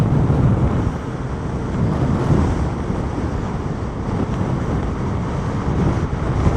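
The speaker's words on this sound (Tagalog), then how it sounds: "Malakas yung hangin." Strong wind buffeting the microphone while riding a Yamaha NMAX motor scooter on an open road in hot weather, a loud, steady roaring rush with no talk.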